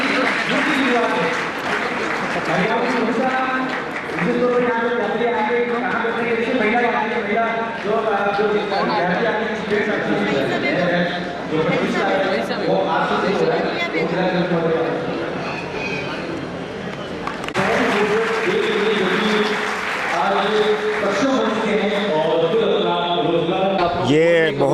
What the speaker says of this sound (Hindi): आप तालियां बजाते रहिए क्योंकि ये अपने आप में नई शुरुआत है।